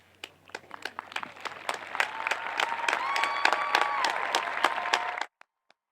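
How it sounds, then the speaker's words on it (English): Graduation audience applauding spring sports athletes, scattered claps building into fuller applause with a few cheers and voices, then cutting off sharply, leaving near silence and a couple of stray claps. "will everyone join me in applauding these young men and women"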